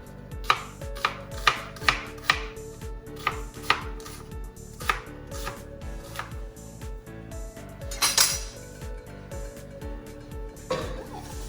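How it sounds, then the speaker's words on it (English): A knife chops a small yellow onion on a board in quick, close, rhythmic thuds that later slow and thin out, with a louder clatter of utensils partway through. "This is just like a small yellow onion. Gonna chop them."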